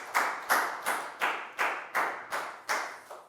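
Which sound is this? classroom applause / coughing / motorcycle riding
classroom applause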